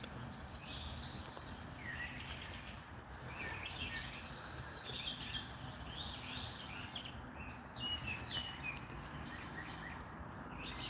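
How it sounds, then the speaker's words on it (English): Birds sing and chirp outdoors during a walk, with scattered faint, high calls over a steady, noisy background hum. "You love the sound of the birds"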